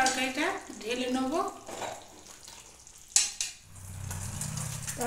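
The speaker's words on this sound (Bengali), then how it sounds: "এখন আমি তরকারিটা ঢেলে নেব" Bean, brinjal, bori and potato curry being poured from a pan, with stirring and scraping clatter of a spoon against metal, a brief sharp knock, then a low sizzling hum close by; no one speaks.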